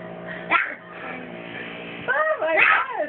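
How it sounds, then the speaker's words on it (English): A dog makes wild, strange noises: yelping, whining and warbling howls with rising and falling pitch, close and loud, with a person's voice mixed in. "It's like she's a wild dog or something."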